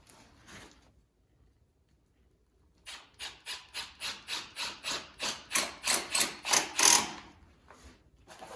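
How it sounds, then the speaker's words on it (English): A Milwaukee Surge impact driver drives a screw into a 2x4 fastened to concrete, with a brief lead-in and a pause before a rapid run of about a dozen loud, close, sharp rattling impact bursts that build in strength, then stop. "And then it's just a matter of screwing the screws in."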